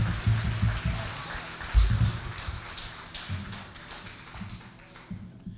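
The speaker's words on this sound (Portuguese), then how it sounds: "Aplauda ao Senhor bem forte" A church congregation applauds, a dense, patchy spatter of hand claps that surges in bursts and then gradually thins toward the end.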